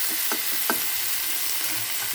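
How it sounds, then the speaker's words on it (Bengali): Garlic frying in a little oil in a pan: a steady, close sizzling hiss runs throughout, with a few soft clicks from the pan and no voices. "রসুনটা ভাজা হয়ে যাবে"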